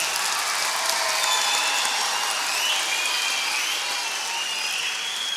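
Sustained applause from an audience honoring teachers at an Eid al-Fitr celebration, a dense, even wash of clapping that holds steady from start to finish with no voices.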